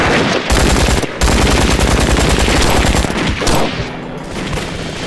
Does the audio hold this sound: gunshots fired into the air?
yes